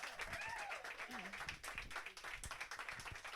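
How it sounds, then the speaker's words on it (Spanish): Audience applause and cheering after a live song at a cultural show, sustained clapping from a crowd for several seconds, fairly loud and continuous with scattered shouts mixed in. "¡Fuertes aplausos!"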